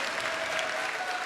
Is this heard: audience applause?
yes